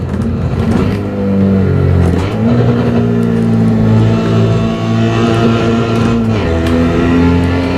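A Fiat Abarth 595 in the Assetto Corsa driving game revs loudly and continuously, its engine note rising and falling with throttle changes and gear shifts, close and with no talk.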